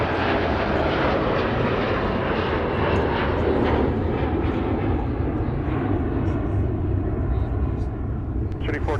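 A fixed-wing airliner rolls along a runway at Minneapolis–Saint Paul airport, a loud, steady broadband engine roar that fills the whole clip, with radio talk from the tower mixed in.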